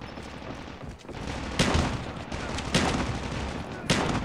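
Shotgun blasts in the Call of Duty Mobile video game sound as three sharp, spaced bursts over a constant backdrop of game noise and faint background voice.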